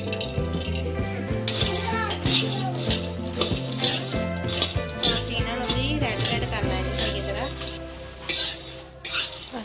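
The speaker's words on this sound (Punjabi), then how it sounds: "ਹੁਣ ਅਸੀਂ ਭੁੰਨਦੇ ਆ ਜੀ ਫੁੱਲ ਮਖਾਣੇ" Fox nuts (makhana) being dry-roasted in a kadai over low gas make soft stirring scrapes and light clinks of a spoon against the pan, all under fairly loud background music.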